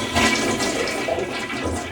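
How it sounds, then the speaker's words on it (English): A household toilet flushes loudly and close, a rushing surge of water that churns and swirls steadily for a couple of seconds. "Where does everything go when you flush?"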